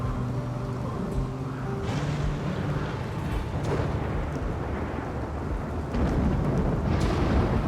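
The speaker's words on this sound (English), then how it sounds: "Oh, it's raining. It's cold and it's raining." Steady broadband rain with low rumbling thunder rolling through a cold Rimworld video game storm, dense and continuous, with a low droning tone under the downpour early on.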